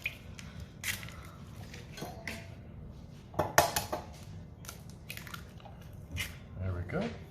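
Eggs being added and mixed into ground meat for Salisbury steak loaves, giving soft wet squishes, taps and clinks of a whisk against a bowl, scattered and close.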